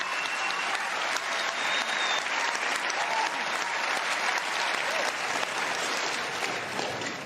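A large crowd gives the Korean cast of Parasite, nominated for the top ensemble award at a Hollywood awards ceremony, a standing ovation: dense, steady applause holding at full strength from start to finish without talk.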